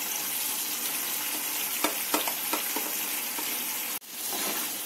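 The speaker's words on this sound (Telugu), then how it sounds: "చక్కగా ఇట్లా వీటిని టర్న్ చేసుకుంటూ మనం మంచూరియాని కలుపుకోవాలి." Fried veg manchurian balls are stirred and tossed through sauces in a pan, giving a steady close sizzle with a few scraping knocks from the spoon and a brief break near the end.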